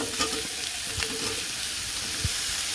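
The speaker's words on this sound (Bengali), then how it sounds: "এটা হলো কাঁচকলা ভাজা" Raw green banana frying with green chilli, onion and salt in a village kitchen, giving a steady soft sizzle with a few brief stirring knocks, close and moderately quiet throughout.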